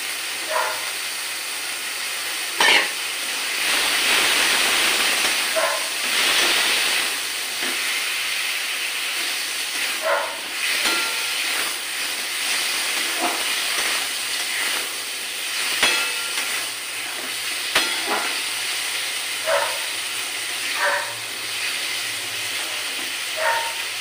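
Boiled pea cooking water is poured into a hot pan of chana paneer gravy. A steady, loud hiss and sizzle runs throughout, with scattered small pops and crackles and no talking.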